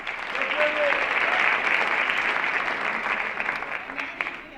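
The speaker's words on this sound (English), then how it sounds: "Let's give him a round of applause." Steady audience applause at a university convocation, a broad wash of many hands clapping at moderate distance, with faint voices underneath.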